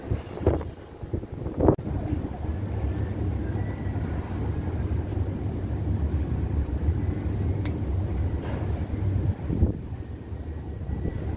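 Strong outdoor wind buffets a microphone in a steady, rumbling rush, broken by a few short bumps and knocks, with faint voices partly buried beneath it.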